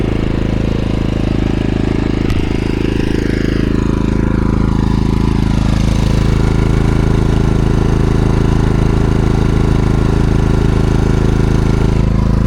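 A maXpeedingRODS MXR3800 petrol generator on a sailing yacht drones steadily and loudly up close, its engine note shifting slightly early on before settling into a constant hum.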